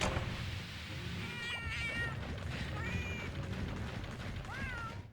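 Several cats meow in the Monster Hunter Portable 3rd video game, rising and falling calls repeating over steady in-game background noise.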